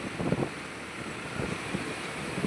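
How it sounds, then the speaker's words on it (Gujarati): Strong wind blows across open farmland during a storm, a steady broadband rush with low gusty buffeting against the microphone and no voices. "બહુ બધો પવન ફૂંકાય છે"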